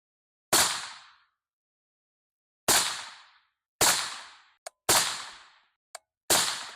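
A CZ Bren 2 MS rifle fires Hornady 55 grain ammunition at a range. Five sharp, loud single shots ring out with decaying echoes and irregular gaps between them, and two small clicks fall between the later shots.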